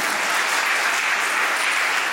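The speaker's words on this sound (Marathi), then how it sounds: "तुम्ही त्यांच्या टाळ्या वाजवून स्वागत केलं" Audience applause at a convocation ceremony, steady dense clapping from a crowd welcoming a guest, sustained evenly throughout without talk.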